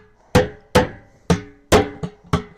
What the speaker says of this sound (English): I don't keep a hammer too awfully far away from me.